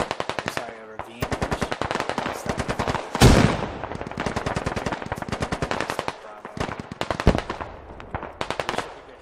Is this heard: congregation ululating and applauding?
no